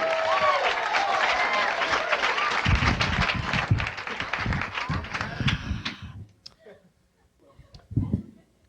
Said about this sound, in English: Big round of applause, Carlos Alazraqui.